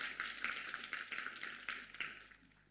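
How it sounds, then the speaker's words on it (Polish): An audience in a stage-show studio applauds to welcome guests onto the stage: faint, fairly distant rounds of clapping that swell and ebb in short bursts. "Brawa, jeżeli można"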